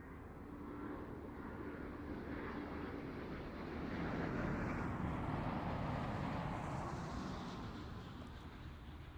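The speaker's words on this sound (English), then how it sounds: "this will be another dramatic departure as the 350 drifts in over the black sheds" An Airbus A350 airliner flies low over an airshow at Farnborough, its engines giving a loud, steady jet roar that swells and slowly fades, mixed with wind noise.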